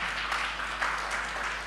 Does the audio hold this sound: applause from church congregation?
yes